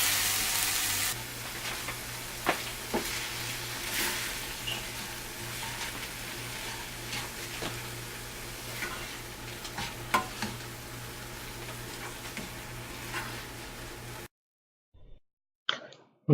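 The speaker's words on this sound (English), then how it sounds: "Now mix it well" Chicken curry for a dhaba-style dish sizzles steadily in a frying pan while being stirred, with scattered soft clicks and scrapes of the spoon, then a sudden silence near the end.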